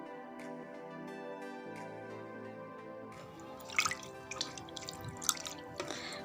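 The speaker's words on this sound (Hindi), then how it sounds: "अब आपके सामने मैं इसको वॉश करती हूँ" Water running and dripping as an egg white mask is rinsed off the hands, faint trickling and splashing that builds in the second half with small irregular drips, close by and quiet.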